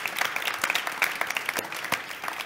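A studio audience on a French-language talk show claps for the makeup artist, brisk scattered hand claps with distinct sharp hits rising out of a moderate, fairly close round of applause.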